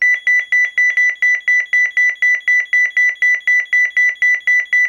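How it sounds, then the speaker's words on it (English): A 1992 CareTaker Plus home security system sounds its local alarm: a loud, rapid electronic beep pulsing steadily about four times a second, alone and unbroken. "when I flip this on, the alarm sounds, and when I flip it back off, the alarm stops sounding"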